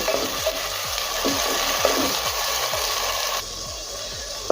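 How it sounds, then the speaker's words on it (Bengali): Onion frying with ginger, garlic and tomato paste for Bengali mutton kosha, a steady close sizzle with regular scraping stirs of a spatula against the pan. "কিছুক্ষণ সময় নিয়ে আদা রসুন টমেটো পেঁয়াজের সাথে কষিয়ে নেব"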